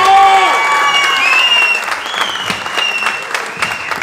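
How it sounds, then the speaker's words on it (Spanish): Applause breaks out for a boy named Johnny, a crowd clapping in a busy wash that starts loud under tonal, sliding voice-like sounds and then settles to a lighter patter. "Fuerte el aplauso para Johnny Respire, por favor."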